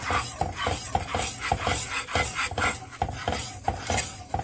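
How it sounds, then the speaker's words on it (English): Bark parch flour porridge being stirred in a copper pot, a steady rhythmic scraping and rubbing of a spoon against the metal, repeating about twice a second, close and fairly loud with no voices. "just remember that you have to keep stirring it"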